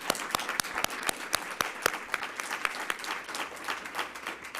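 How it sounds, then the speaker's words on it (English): A modest round of applause at a school board meeting, distinct individual claps from a small audience, fairly close and crisp, gradually thinning out. "Let's give them one more round of applause."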